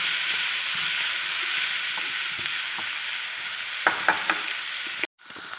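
Macaroni with turmeric, chili, green chili and pepper powder stirred in a pan, a soft steady sizzle with a few light spoon scrapes toward the end before a brief cut.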